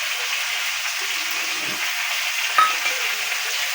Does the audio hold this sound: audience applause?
no